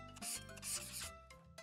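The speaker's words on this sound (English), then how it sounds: "Let's scrub off all the rust so that Sam looks as good as new." Cartoon scrubbing of rust off a snowplow: a short burst of brisk rubbing strokes, close and moderately loud, over a steady musical background with no talking.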